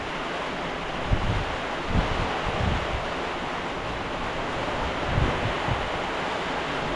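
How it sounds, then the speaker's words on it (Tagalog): Strong storm wind gusts around a hut during a typhoon, a constant rushing roar with several heavier buffeting surges that batter the microphone, and no voices. "Lakas ng hangin, no?"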